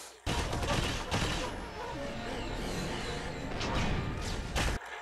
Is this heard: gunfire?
yes